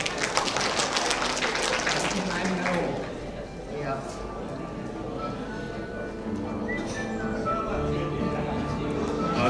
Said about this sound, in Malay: Kita bagi tepukan sikit.